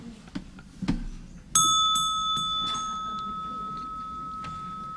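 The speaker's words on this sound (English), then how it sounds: "It's my ancient Korean temple bell, and it makes a joyful noise when our speakers are out of time." A single strike on an ancient Korean temple bell used as a timer rings out clearly, its bright sustained tone slowly fading over several seconds after a few faint knocks and rustles beforehand.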